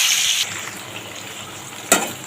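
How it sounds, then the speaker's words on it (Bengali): Pieces of ash gourd frying in hot oil over a medium gas flame make a brief loud hiss at the start, which settles into a soft, quieter sizzle with a couple of sharp spits near the end. "তেলটা গরম হয়ে গেছে এখানে চালকুমড়োগুলো ছেড়ে নিচ্ছি এবার গ্যাসটা মিডিয়াম করে এটা আমি ভেজে নেব"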